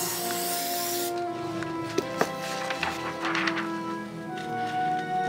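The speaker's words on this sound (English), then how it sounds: "spraying down the paper" Water sprayed onto paper: a broad hissing spray runs steadily for about a second, then stops, leaving quiet handling noises and a few soft taps and rubs.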